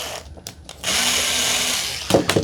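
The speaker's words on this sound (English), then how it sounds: "That's a Phillips head screw, so you got to undo that." A small power driver briefly whirs as it unscrews a Phillips head screw holding the side brush of an upturned iRobot Roomba J6+ robot vacuum, preceded by light handling clicks.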